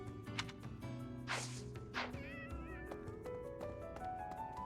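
Several cats meow in the video game Fire Emblem: Three Houses, a couple of loud drawn-out meows near the start and fainter ones after, over soft game music.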